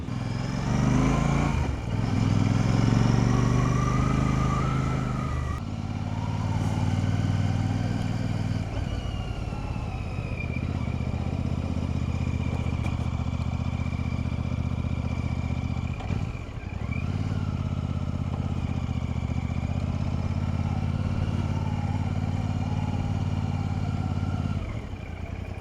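A 2025 Royal Enfield Classic 650 motorcycle rides along open roads, its engine thrumming steadily with a few rises and dips as gears change, heard close and continuous with wind and no speech.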